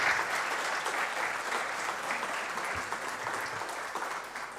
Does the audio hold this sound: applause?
yes